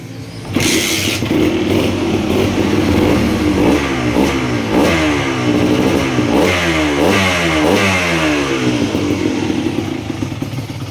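A Kawasaki KMX 125 motorcycle fitted with a KTM 85cc exhaust arrester, heard close and loud as it starts and then revs repeatedly, its pitch rising and falling in steady sweeps.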